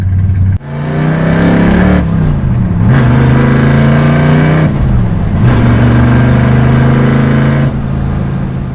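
A 1965 Shelby Mustang GT350 V8 is floored and pulls hard through the gears, a loud, close engine roar that dips briefly at each shift and then climbs again, with no talking.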